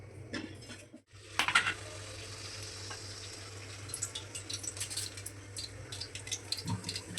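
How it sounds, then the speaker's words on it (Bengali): Bay leaf and cumin dropped into hot oil in a wok, a sudden crackling burst that settles into a faint, uneven sizzle with light clatter, close and quiet. "কড়াইতে তেজপাতা আর জিরে দিয়ে দেবো"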